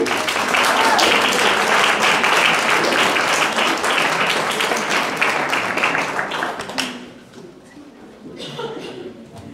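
An audience at a communication colloquium breaks into loud, dense applause mixed with chuckles for about seven seconds, then it cuts off abruptly, leaving a quieter room with a few scattered taps and faint voices.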